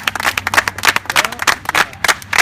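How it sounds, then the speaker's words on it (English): Small group clapping for participants at a fitness HIIT camp, close and uneven claps in loose bursts rather than a smooth wash, lively and fairly loud. "So I just want to clap it up for them."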